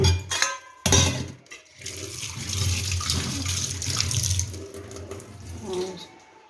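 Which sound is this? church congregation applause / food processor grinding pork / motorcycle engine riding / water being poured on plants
water being poured on plants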